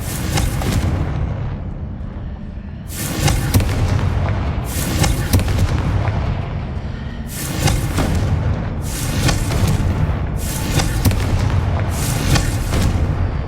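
Confringo fire spell explosions from the video game Hogwarts Legacy come in repeated loud booming bursts, roughly every one to two seconds, with crackling tails between the blasts.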